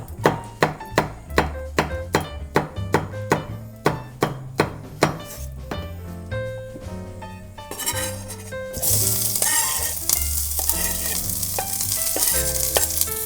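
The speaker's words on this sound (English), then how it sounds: "Just 20 to 30 seconds of nice searing to get your neighbors jealous" Sliced vegetables and chili rounds sear in a hot pan for a turkey burger, opening with a steady run of sharp, regular knocks and clatter before the sizzle swells into a loud, broad hiss over the final seconds.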